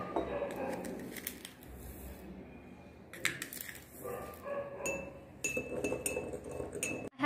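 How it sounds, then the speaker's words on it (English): A spoon clinks and scrapes against a glass of water as salt is stirred in, a quick run of bright close taps and rattles with short pauses, while a dog barks faintly in the background. "So now in the second glass of water let's add some salt and mix it well."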